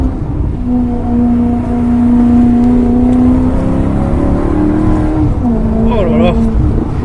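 Maserati GranTurismo S engine revving from inside the car, a loud sustained pitch that climbs and dips and then rises again, with people talking over it.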